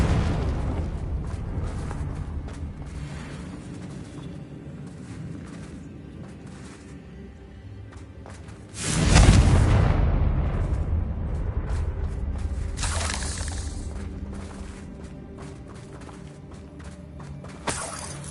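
A Confringo fire-blast spell explodes in the Hogwarts Legacy video game on PS5, one loud booming burst near the middle that rumbles and trails off over quieter game ambience and faint footsteps, with a smaller pop near the end.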